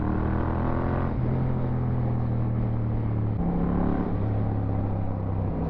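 Slow road traffic with car engines rumbling nearby, a steady low drone whose pitch steps up and down twice as vehicles creep forward and ease off, continuous throughout with no talk.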